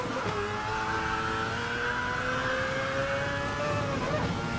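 Mazda 787B Group C race car in a racing video game, its rotary engine holding a steady, loud high-pitched wail with rising and falling harmonics through a continuous run, with no talk.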